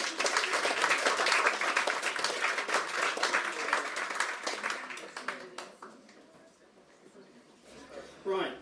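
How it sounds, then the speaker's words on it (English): An audience applauds a storyteller at a live tales and readings evening, with dense, sustained clapping that stays loud for several seconds and then thins and fades out. "So round of applause for Kevlin,"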